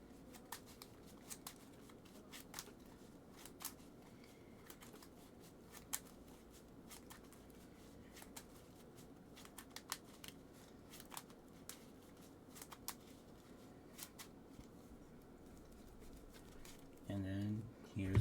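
A deck of trading cards is shuffled with light, repeated ticking flicks at an uneven rhythm, close and fairly quiet over faint background noise.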